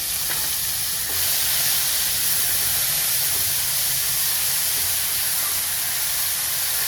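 Finely chopped onion dropped into hot oil already seasoned with ajwain, asafoetida and bay leaf for shev bhaji, a loud, steady, hissing sizzle that swells after a moment and continues without talk.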